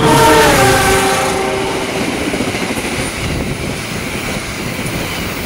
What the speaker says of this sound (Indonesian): diperkirakan kereta akan datang dari arah Banjar teman-teman